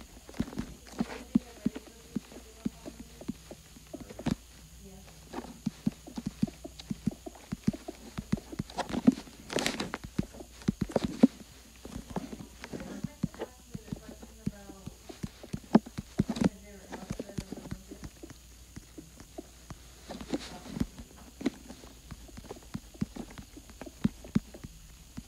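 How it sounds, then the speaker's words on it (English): Horse hooves clip-clop in a video game with an irregular, close run of hard knocks and patters. Scattered louder thumps stand out, and a voice talks over parts of it. "And I'm gonna have a horse to ride around on"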